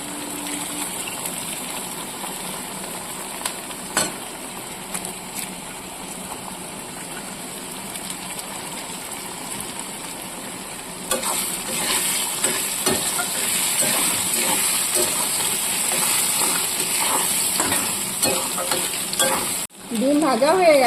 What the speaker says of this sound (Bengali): ভাজার মধ্যে আমি ডিম ফাটিয়ে দিচ্ছি